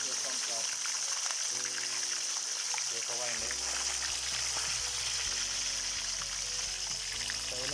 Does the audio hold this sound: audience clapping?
no